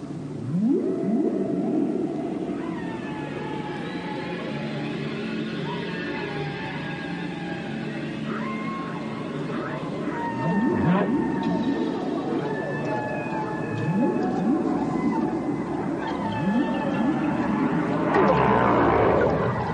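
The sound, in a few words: whale vocalizations, humpback, right and blue whales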